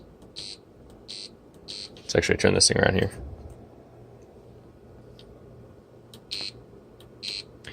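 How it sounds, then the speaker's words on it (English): A button press on a circuit board sets off a piezo buzzer, giving a loud, dense burst of about one second mid-clip, with faint repeated high beeps before and after and someone talking nearby. "when we push this button here, it triggers an interrupt that turns on the buzzer."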